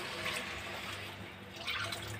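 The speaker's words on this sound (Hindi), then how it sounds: "दो गिलास पानी" Water is poured into a cooking pot over a gas stove while a potato dish cooks, heard as a faint, steady splash and trickle.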